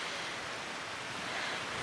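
Ocean surf washing onto a beach in a continuous broad roar, heard close and steady with some wind buffeting the microphone, and no voices.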